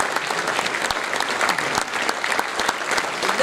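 Steady, dense applause from an audience at an Indian Navy band concert, loud and continuous with crisp overlapping claps throughout.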